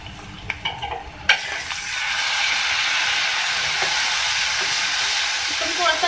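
Spiced tomato masala for a restaurant-style bhindi gravy sizzles steadily in a pan with a splash of water, after a few clinks and stirring scrapes, and the hiss stays loud and continuous to the end.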